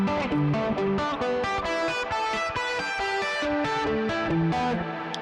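Loud distorted electric guitar plays a fast, continuous run of pentatonic notes and chords, thick and saturated, with no voices.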